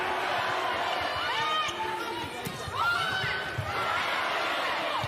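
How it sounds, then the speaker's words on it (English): Crowd at a Northwestern college volleyball match, a steady arena roar of chatter and cheering with shoe squeaks on the court, under continuous commentary. "it is great hearing a crowd and an atmosphere like that"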